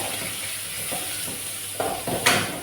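Onion and potato fry in a pan for a masala dosa filling, giving a steady moderate sizzle with a few short stirring scrapes toward the end.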